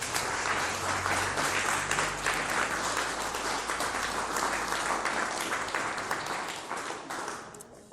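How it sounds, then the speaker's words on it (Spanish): A church congregation applauds, with dense, sustained clapping that stays loud throughout and fades slightly at the very end. "Denle un aplauso al Rey de Reyes."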